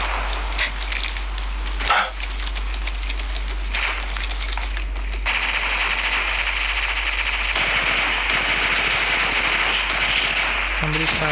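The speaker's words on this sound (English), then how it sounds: "Somebody's firing over there." Automatic gunfire from the mobile battle royale Apex Legends Mobile, rapid bursts crackling steadily throughout, growing denser and louder in the second half, with faint game noise underneath.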